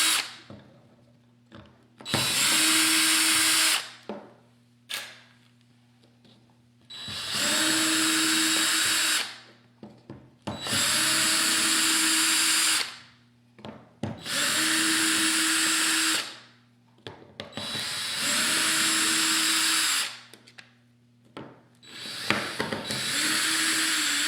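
A power drill backs screws out of the handle of a Dupray Neat steam cleaner in five loud, steady bursts of whirring separated by brief pauses and small handling clicks, close to the listener.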